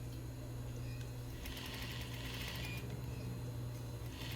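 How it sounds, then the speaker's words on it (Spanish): A sewing machine stitches a seam while a dress is being repaired, with a steady, fast mechanical whir and rattle of the needle running continuously up close. "Y vamos cosiendo."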